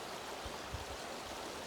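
River water rushing in a steady broadband wash, soft and distant, continuous with a couple of faint low gurgles, no voices.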